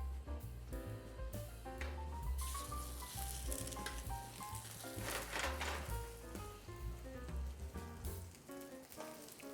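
A piece of food fries in olive or vegetable oil with a continuous crackling sizzle that sits under prominent tonal music playing throughout.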